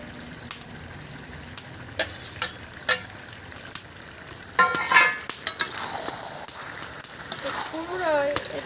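Pumpkin and potato go into meat frying in its own rendered fat, sizzling steadily while a spoon scrapes and clatters against the pan in repeated close strokes, with a louder burst of frying partway through.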